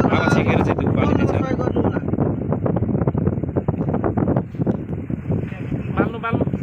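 Strong gusting wind buffets the microphone outdoors at the Barahakshetra temple in Sunsari, Nepal, where incense is being lit, a steady loud roar with someone talking over it throughout.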